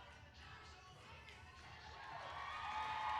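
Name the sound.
crowd cheering a cheerleading dance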